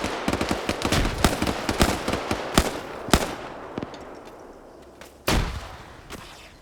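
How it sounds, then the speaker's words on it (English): Gunfire erupts in a military video game firefight, with loud, rapid bursts of shots clustered together, then scattered single reports and a heavier blast, all without talking. "OFCRA doing their best to return fire right here."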